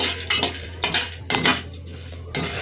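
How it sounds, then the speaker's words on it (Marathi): Raisins are dry-roasted in a pan for moong dal laddoos, with a handful of distinct metallic scrapes and clinks of a spoon against the pan over a faint sizzle. "हे मनुका आहेत, हे पण भाजून घेते।"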